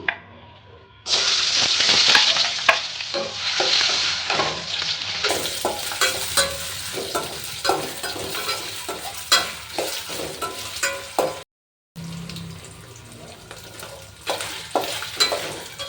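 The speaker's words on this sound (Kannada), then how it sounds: "ಬ್ರೌನ್ ಕಲರ್ ಬರೋವಷ್ಟು ಇದನ್ನು ರೋಸ್ಟ್ ಮಾಡಬೇಕು" Egg and potato being stirred and roasted in a kadai, with steady loud sizzling and frying and repeated scraping strokes of a spoon against the pan, a brief gap near the end.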